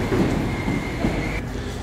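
A Northern train to Leeds at Sheffield station, a steady low rumble of the train moving with a faint high whine, close and continuous, no talking.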